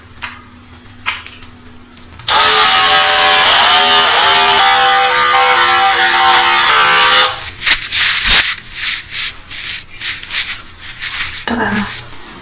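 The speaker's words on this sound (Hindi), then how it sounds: "and then start the trimmer" An electric hair trimmer buzzes loudly and steadily for about five seconds close up, then cuts off, followed by light handling noises and a little talk.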